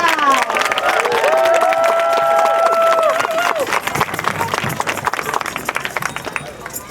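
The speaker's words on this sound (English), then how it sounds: "Rebecca, a big round of applause." A crowd at a ceasefire rally in the Twin Cities bursts into loud, sustained applause and cheering for a speaker, with whoops rising above dense clapping that gradually thins out.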